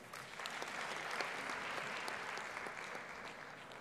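Applause at a university graduation ceremony in Kigali fills the whole stretch, steady dense clapping from a large audience with no voices over it.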